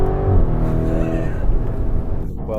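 A Lamborghini Urus, a 650 hp SUV, accelerating hard at full throttle with a loud, close engine roar building over a few seconds, tonal harmonics rising, and a voice briefly heard near the end.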